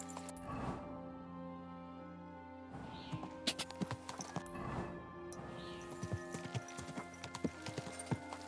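Horse hooves clip-clop at a walk in the medieval game Kingdom Come: Deliverance II, steady near hoofbeats with a few sharper knocks, over faint ambient game music and no talk.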